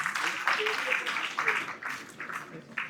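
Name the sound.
applause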